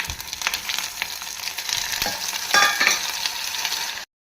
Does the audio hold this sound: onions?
yes